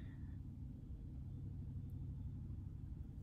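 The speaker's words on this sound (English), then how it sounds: "It's this huge truck and they have a trailer on the back." A huge truck towing a trailer rumbles by, its heavy low engine drone steady and close throughout with no voices over it.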